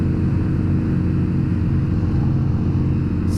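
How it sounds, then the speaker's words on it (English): A Mini Cooper passing at a car meet, heard as a continuous, fairly loud low rumble of traffic and engine noise, steady throughout with no voices. "Sick little Mini Cooper."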